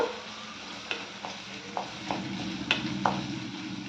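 Onions with curry leaves fry in a pan until dry and brown, a low steady sizzle punctuated by several crisp spoon taps and scrapes at irregular intervals, close by and without speech.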